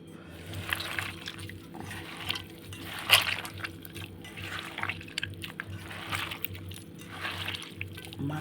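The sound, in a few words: mashing boiled flat beans by hand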